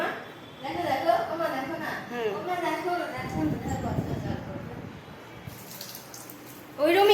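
Water runs from a tap into a sink at home, a steady splashing gush that stops partway and comes back at the end, with people talking over it.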